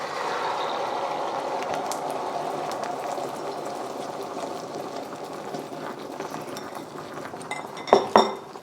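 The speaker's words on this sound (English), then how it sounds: "we're just going to quickly move the egg around so that the raw gets cooked" Eggs stirred around in a hot oiled pan with shrimp, a steady sizzle and bubbling frying sound running close and loud throughout, ending with a couple of sharp clinks of a utensil against the pan.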